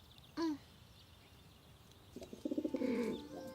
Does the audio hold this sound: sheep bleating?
no